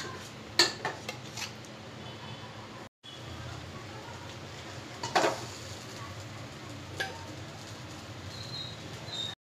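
A spoon scrapes thick cream off set yogurt and onto a plate, with sparse clinks and soft scraping strokes up close and someone talking quietly in between.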